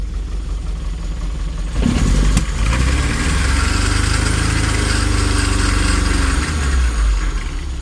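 A 1980 Triumph TR7 engine idles roughly close by, its low uneven rumble lumpy and sputtering, with a louder burst of revving near the start before settling into a steady rough idle.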